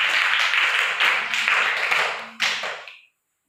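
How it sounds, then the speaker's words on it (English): A class of children clapping their hands together in a classroom, a dense burst of many small hands applauding loudly for about three seconds before stopping abruptly. "Clap, clap."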